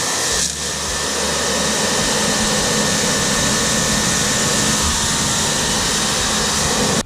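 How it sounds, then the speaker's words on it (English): A pressure washer spraying underneath a heavily soiled car during detailing, a loud, steady high-pressure hiss that runs unbroken from start to finish, close by. "We're gonna use a pressure washer"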